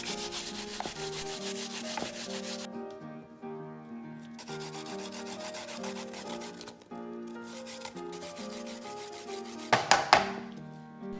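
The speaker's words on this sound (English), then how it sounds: "Grate the onion and garlic." Onion and garlic rasp against a grater for barbecue sauce in a steady back-and-forth rhythm of rubbing strokes, close up, over light background music, with a few sharper scrapes near the end.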